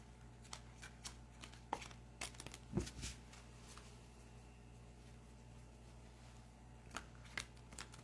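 Tarot cards shuffled by hand in a quiet room, soft papery riffles and a few sharper flicks, close but faint.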